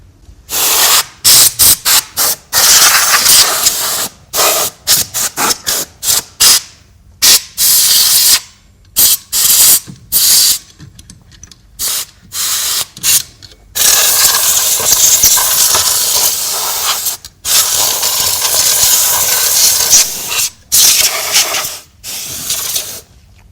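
Compressed air blasts into a PC power supply to clear dust, a series of sharp hissing sprays in short bursts of varying length separated by brief silences, with a few longer continuous blows, loud and close.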